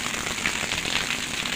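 Water splashes and patters steadily as an overfilled rooftop tank overflows onto a hard surface nearby, continuous and rain-like, with no speech.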